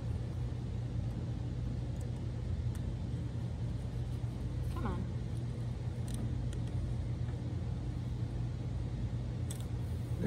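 A small engine with its choke in use runs steadily during a weekend kids' project, giving a constant low rumble with occasional faint clicks and bits of background talk.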